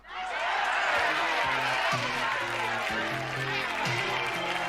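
A movie audience cheers and claps in a continuous dense wash of applause and crowd noise, with low music tones running underneath.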